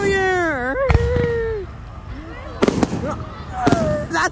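New Year fireworks at Loch Sport, several sharp loud bangs and crackling bursts close by, with whistling rising tones and excited voices talking around them.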